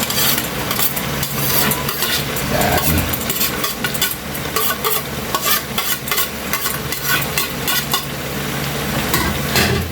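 Bopis with radish and carrots stirred in a hot pan: loud, continuous sizzling broken by frequent spatula scrapes and knocks against the metal.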